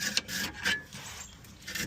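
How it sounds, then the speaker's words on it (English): A brake caliper is pried off the rear brake of a 2010 Honda CR-V, giving short, quiet metallic rubbing and scraping strokes close up for a couple of seconds with no talking. "now we'll pop this caliper off"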